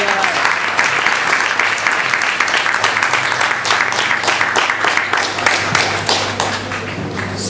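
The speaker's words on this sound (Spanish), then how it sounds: "Aplauso para Cristo." A church congregation claims for Christ in sustained, dense applause that stays loud and steady throughout, with scattered sharper claps and taps standing out from the mass.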